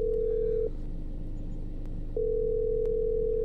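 A steady dial tone from a phone call in the horror video game The Stalked, cutting out briefly in the middle and then resuming, over a low rumbling in-game background.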